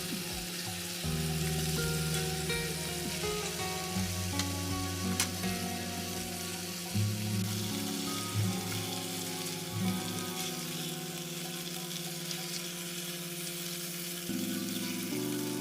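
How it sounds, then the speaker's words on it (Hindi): Chicken pieces cook in a pan over medium heat, giving a soft, steady sizzle and crackle under low, droning background tones, with an occasional sharp tick. "तीन से 4 मिनट तक चिकन को दरमियानी आंच पर पकने दें।"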